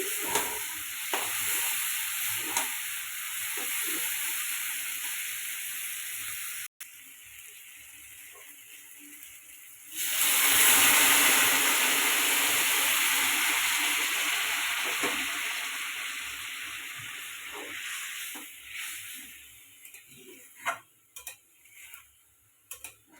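Pea ghugni masala sizzles steadily in a hot pan. A sudden louder, hissing surge comes as hot water is poured in, then it settles and fades, with a few sharp stirring clicks at the end.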